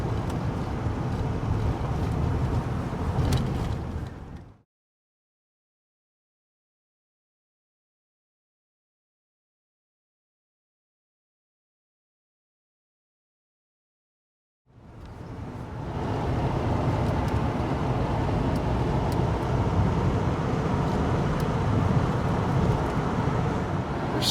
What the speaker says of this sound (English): Engine's getting a good workout.